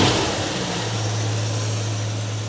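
A Hemi engine in an International truck runs steadily at a low, droning idle, loud and close, with a dense broadband rumble and no talking.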